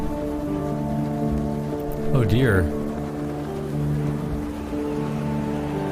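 Steady rushing wind in the video game Sunless Skies forms a constant noisy wash over low droning tones, with someone briefly speaking over it.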